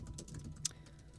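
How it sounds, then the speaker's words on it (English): Quick typing on a computer keyboard during a live online chat, a run of light, close clicks with one sharper keystroke standing out midway, over faint room noise and no speech. "I can't even type."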